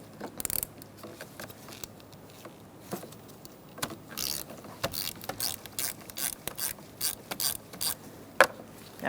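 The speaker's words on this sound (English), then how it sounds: "Now we're going to remove the positive battery terminal using a 10mm long socket." A ratchet fitted with a 10mm long socket loosens the positive battery terminal on a 2012-2019 Fiat 500 1.4L, giving rapid metallic clicks in short repeated bursts with light clinks between them, close up and without speech.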